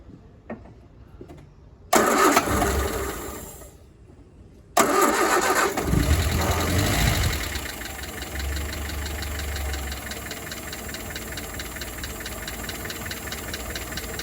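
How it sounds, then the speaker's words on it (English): A 1970 Bedford CF 1.6 petrol van engine cranks briefly twice, then catches and settles into a steady, slightly rough idle close by. "We'll just start the engine one more time."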